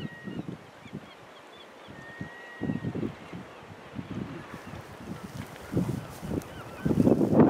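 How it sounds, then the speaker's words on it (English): Seabirds call repeatedly outdoors at a coastal grassy spot, with honking and squawking cries at middling distance over a low wind rumble, and the calls come in irregular bursts. "Seabirds."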